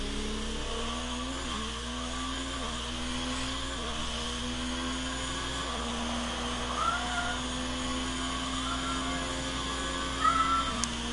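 A cat meows in drawn-out, wavering calls indoors beside a TV, set against the steady engine whine of an F1 racing game, with the cries rising and falling several times.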